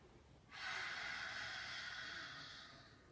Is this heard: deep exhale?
yes